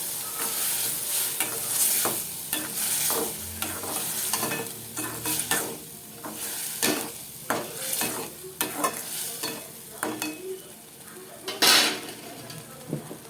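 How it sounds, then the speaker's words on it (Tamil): Ground keerai greens are stirred in a cooking pan, a spatula scraping and knocking against the metal in uneven strokes over a soft sizzle, close and distinct, with a few sharper clanks. "நம்ம அரைச்சி வச்சிருக்கிற கீரையை உள்ளே போட்டு கிண்டிக்கலாம்"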